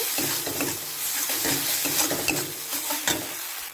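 Rohu fish mixture being stirred with salt and turmeric, soft wet squelches and scrapes in a bowl under a faint sizzle, close and without talk.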